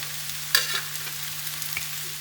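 Vegetables and tomatoes sizzle steadily as they are heated in a pan for tacos, a soft continuous fry with a couple of brief stirring scrapes and no talking.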